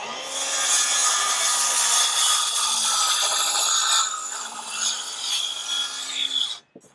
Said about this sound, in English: We're going to go ahead and cut with a circular saw.